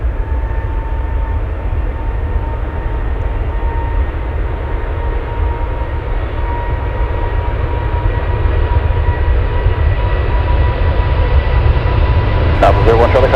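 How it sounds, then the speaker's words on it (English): A FedEx Boeing 747 takes off from Anchorage airport at full power, a loud, steady, low engine roar that fills the whole stretch, with a brief rattle near the end. "Love to hear GE90s at full power."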